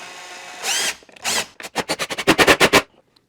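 A power drill drives 3-inch sheetrock screws into a control panel for an HO model railroad layout: two short whirring runs, then a quick series of about ten close, loud pulsing bursts as the screw seats.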